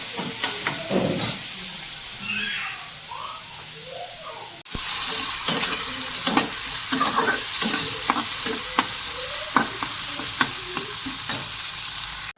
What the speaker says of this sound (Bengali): পেঁয়াজটা ভাজা ভাজা হয়ে যাওয়ার পরে আদা রসুন টমেটোটা দিয়ে দিয়েছি, এটাও ভাজা ভাজা হয়ে গেছে।